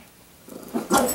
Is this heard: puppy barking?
yes